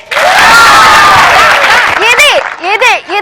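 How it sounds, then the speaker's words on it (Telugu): Loud audience clapping and cheering at a Telugu television comedy show, a dense continuous wash of applause fading into shouts and voices toward the end. "క్లాప్స్ కొట్టండి"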